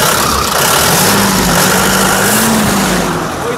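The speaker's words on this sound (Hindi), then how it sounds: "इंजन की आवाज़ भी सुन लो एक बार अंदर जी" A tractor engine, one of a lineup of Mahindra and New Holland tractors for sale, idles steadily and loudly up close with a constant low rumble throughout.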